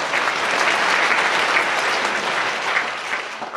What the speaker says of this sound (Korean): 믿는 사람은 박수를 올리겠습니다.